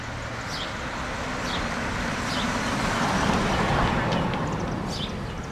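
A truck rolling down a city street in East Cleveland, a broad roadway rumble that builds and fades as it passes, with faint chirps above.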